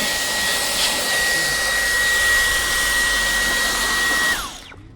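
A Fanttik V10 APEX cordless vacuum runs at a loud, steady high-pitched whine with a strong airy roar, close by, then powers down and fades out at the end.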